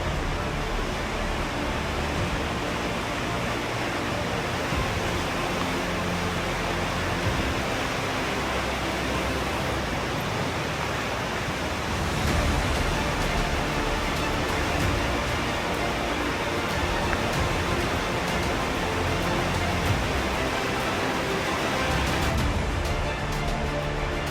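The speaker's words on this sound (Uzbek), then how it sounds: "mana Ko'ksuvdagi dastlabki sharshara" Steady, dense roar of rushing water from a nearby waterfall, constant and loud throughout with no voices.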